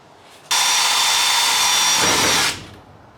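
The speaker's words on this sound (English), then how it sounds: "we did have to adjust our drill just a little bit and get a bigger bit" A power drill whirs loudly and steadily for about two seconds, starting abruptly and winding down at the end, with no talking.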